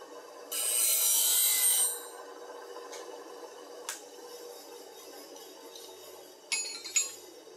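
A D-Way Tools bowl gouge is ground on a sharpening wheel to take off the heel. One loud, bright grinding burst of about a second and a half is followed by quieter rubbing and a few sharp clinks.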